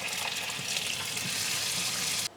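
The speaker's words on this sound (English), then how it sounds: "I will remove a little bit of my starchy water, and I will add it like this" Starchy pasta water is poured into a pan of frying garlic for Sicilian spaghetti aglio olio, giving a steady close hiss and sizzle that runs for about two seconds and then cuts off abruptly.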